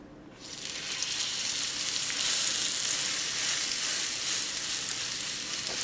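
A seasoned tuna steak sears in a hot pan on the stovetop. The sizzle bursts in loudly after a quiet start and holds strong and steady.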